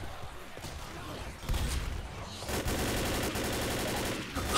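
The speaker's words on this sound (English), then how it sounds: "I'm just gonna shoot them" Bursts of gunfire inside a McDonald's in Left 4 Dead, a shot then sustained rapid firing that builds into a dense continuous volley, moderately loud with game noise beneath.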